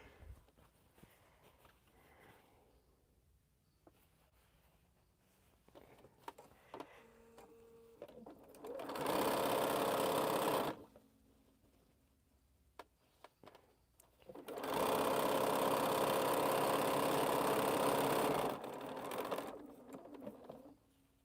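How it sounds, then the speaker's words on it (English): A sewing machine stitches quilt pieces together in two bursts, a short one then a longer steady whir, with quiet handling clicks and rustles between. "let's sew these together"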